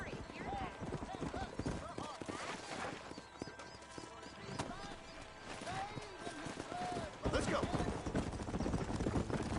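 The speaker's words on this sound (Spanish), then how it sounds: "Otro caballo, montalo cuando acuda." Horse hooves clip-clopping closer in the Western video game Red Dead Redemption, a steady galloping patter with occasional snorts, heard alongside game music and effects.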